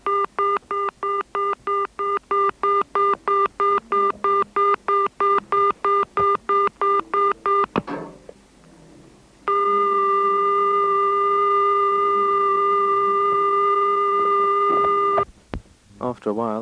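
A British payphone from 1971 sounds its 400 Hz pay-tone pips: a fast, even run of short beeps, then a brief gap and a long steady tone, clear and loud.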